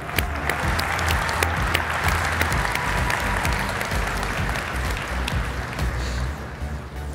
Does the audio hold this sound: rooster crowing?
no